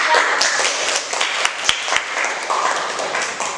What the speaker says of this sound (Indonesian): Tepuk tangan nomor 3.